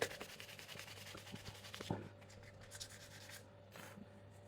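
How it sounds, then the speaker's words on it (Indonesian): Sandpaper rubs glue residue off a part of a Sharp Innova, making quick, rasping strokes close up, at a soft and steady level. "Kita bersihin amplas-amplas saja begini teman-teman"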